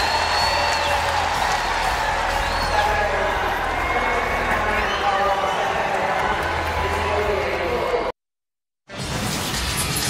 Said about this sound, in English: this crowd will salute South Carolina as we go to break